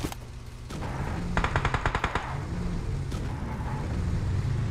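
A rapid burst of gunfire strikes a buggy in a video game, a quick string of sharp cracks over a steady engine rumble, with a lone shot following shortly after.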